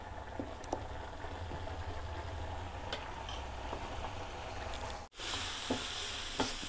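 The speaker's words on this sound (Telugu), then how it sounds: "ఇదంతా బాగా కలుపుకొని కొంచెం సేపు మూత పెట్టేస్తే బాగా ఫ్రై అయిపోతుంది" Moong dal curry with green chillies fries in a pan with a steady, close sizzle and occasional light utensil taps, briefly cut off partway then resuming.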